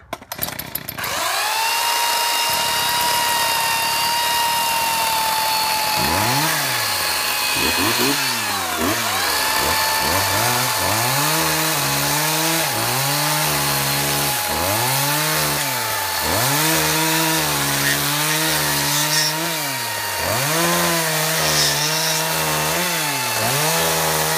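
A gas chainsaw idles, then revs up and down repeatedly in surging bursts, loud and close, running steadily throughout.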